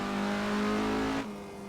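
A 1969 Isuzu Bellett GTR in Assetto Corsa revs hard under acceleration with a strong, buzzy engine note, then the pitch drops sharply near the end as it shifts or lifts.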